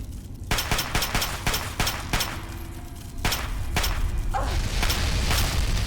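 Sharp, evenly spaced 10mm pistol shots in the video game Fallout 3, about a dozen cracks in a steady rhythm over a low rumbling background that thickens midway, loud and close.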